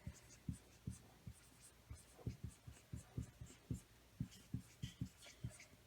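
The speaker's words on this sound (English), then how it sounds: "I'll write that here." Pen or marker writing notes during a biology lecture on motor neuron anatomy, a quiet, close series of rhythmic taps and short scratchy strokes over faint room hum, with no talk.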